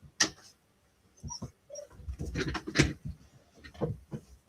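Several dogs and puppies nearby give short, sharp yips and whimpers in irregular bursts, with brief quiet gaps between, fairly close and without talk.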